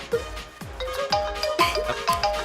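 A phone rings with an incoming call, playing a repeating electronic ringtone melody in several bright chiming pulses at moderate volume, with no talking over it.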